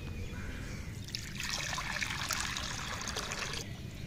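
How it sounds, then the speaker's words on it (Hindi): Water poured steadily from a container for several seconds, a continuous splashing trickle close by with no talk over it. "पानी मैं ले आया हूँ, मैं डालते हैं इसको।"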